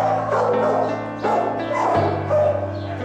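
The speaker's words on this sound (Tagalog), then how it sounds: "Walang tigil sa pag-iyak ang aso nang malaman niya na iniwan na pala siya sa ampunan" A dog left behind at a shelter cries and whimpers without pause, high wavering whines and yelps, loud and close.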